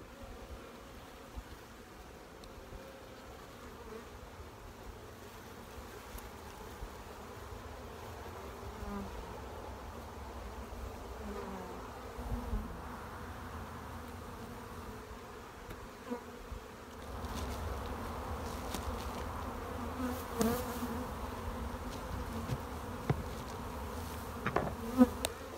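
Continuous low humming buzz of many honey bees in an open hive, growing louder and busier in the second half, with occasional knocks and handling noises.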